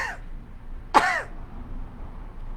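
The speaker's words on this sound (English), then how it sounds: "cough again" A single short, rough cough or throat-clearing burst, close and fairly loud, followed by quiet background hum.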